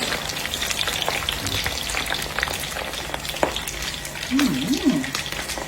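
A shrimp patty fries in oil with a constant crackling sizzle and scattered pops, close and fairly loud, while a brief voice sounds near the end.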